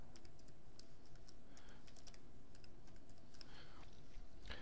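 Soft clicking of keys on a computer keyboard as a password is typed, a quiet irregular run of taps in a calm room with no talking.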